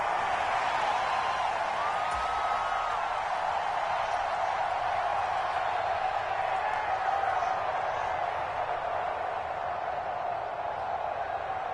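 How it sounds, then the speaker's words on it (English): A stadium crowd at a football game roars steadily after a missed field goal, a dense, loud and continuous wall of cheering that holds without a break. "And the crowd went wild."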